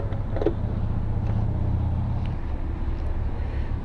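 A Honda SH150i scooter on the move: its engine holds a steady low drone through the ride, mixed with road and wind rumble, with no talking.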